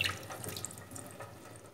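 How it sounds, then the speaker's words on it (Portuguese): Water draining and dripping from a batch of washed herbs, a soft close trickle with a brief faucet-like splash at the start, then faint steady dribbling. "Vai deixar escorrer um pouquinho assim, ó, a água."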